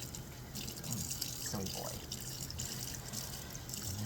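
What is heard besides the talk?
running water stream during a cat's bath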